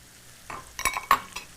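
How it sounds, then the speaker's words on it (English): Mushrooms and onions cook in a pan that has just seared burger patties. A faint sizzle runs underneath a few sharp, close utensil scrapes and clinks. "in the same pan, we cook some mushrooms and onions"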